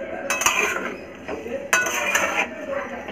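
Metal utensil clinking and scraping in a pan as raw potatoes and tomato are mixed with white oil before the gas is lit; intermittent close taps and rattles with brief louder clinks.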